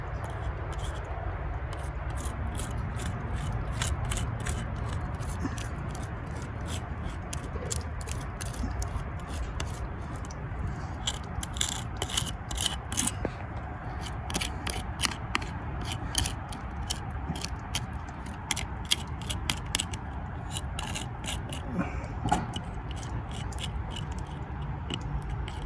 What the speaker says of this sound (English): I'm going to work it in with my putty knife